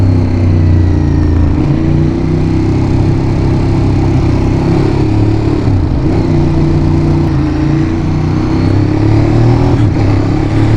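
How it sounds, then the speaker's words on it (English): A Ducati Monster 821 motorcycle engine runs loud and close with a continuous throaty exhaust drone, its note dipping and swelling slightly, with no distinct crackles or pops standing out. "I love all the crackles and bangs that you get from the exhaust."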